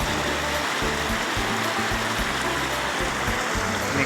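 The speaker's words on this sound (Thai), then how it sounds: "นี่ก็เป็นน้ำป่านะพี่น้อง" Forest stream water flowing past a dry cassava field, a steady, unbroken rushing wash that stays close and constant throughout, with no voices.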